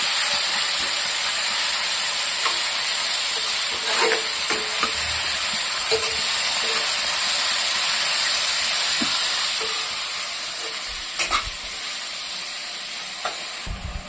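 Onions and minced mutton keema fry together in a pan with a loud, continuous hiss, broken by occasional soft knocks of stirring.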